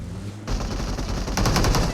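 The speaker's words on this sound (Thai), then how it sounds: "มันเอาปืนมายิงหน้าเราแน่" Rapid bursts of automatic gunfire from a PUBG Mobile match, loud and dense, starting abruptly after a brief quiet moment and intensifying toward the end.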